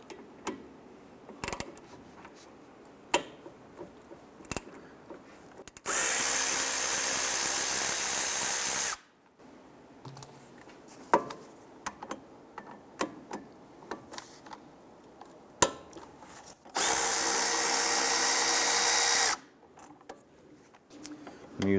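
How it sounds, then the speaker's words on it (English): Ratchet and socket work on a 13mm pivot bolt of a front brake caliper on a 2005-2010 Chrysler 300: sharp mechanical clicks and taps close by, with two longer bursts of rapid ratcheting or spinning, and no talk. "We're going to use our 13mm socket, loosen and remove these two pivot bolts."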